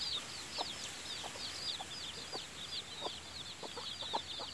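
Country chickens clucking inside a homemade ten-compartment poultry cage, repeated soft clucks and chirps over a hissing background, fairly faint and with no talking.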